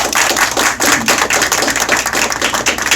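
A close, loud burst of hand clapping fills a campaign office during a visit from a party leader, many dense, rapid claps continuing steadily for three seconds with no talk over them.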